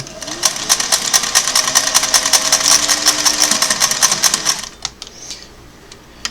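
A Singer Model 404 sewing machine stitches a hem through four layers of percale, a fast, steady, loud mechanical chatter running for about four and a half seconds before stopping, followed by a few faint clicks.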